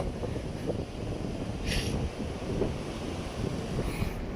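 Strong wind buffets the microphone over a rough, churning sea during rainy weather at an old fishing spot on the Konkan coast, a loud constant roar with surging wave noise and no talk.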